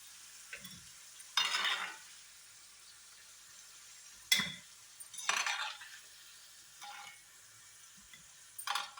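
Spices being half-fried in mustard oil for Kashmiri dum aloo crackle in short bursts, separated by quiet gaps, with occasional clinks and stirring scrapes of a utensil against the pan.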